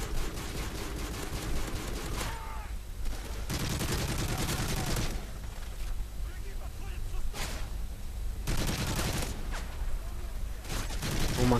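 Repeated bursts of rapid automatic gunfire in Call of Duty MW3 Survival mode. Loud volleys alternate with short lulls of quieter game noise across the stretch.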